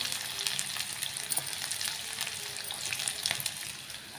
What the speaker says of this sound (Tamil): 2 பெரிய வெங்காயம் வந்து பொடிசாக கட் பண்ணி வச்சுருக்கேங்க, சேர்த்துக்கிறேன்